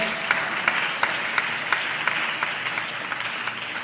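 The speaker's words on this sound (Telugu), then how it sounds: "చప్పట్లు కొడతా ఆయనకి స్తోత్రాలు చెప్దాం" A church congregation claps together during a sermon, steady rhythmic applause with evenly spaced sharp beats, moderately loud and continuous, with no talk.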